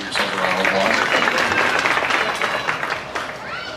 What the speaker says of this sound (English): go ahead, you can give yourselves a round of applause.